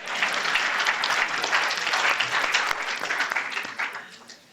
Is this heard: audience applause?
yes